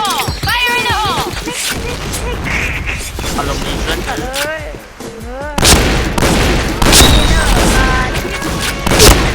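Gunfire in the shooter game Point Blank: loud rapid bursts and booming shots, dense and close, layered with game effects and a voice talking over the action.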